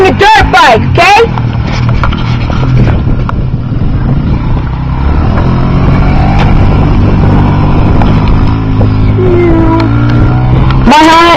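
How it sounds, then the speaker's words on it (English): A dirt bike engine runs steadily and close by, its motor drone holding throughout, with a person speaking briefly at the start and end. "riding my dirt bike"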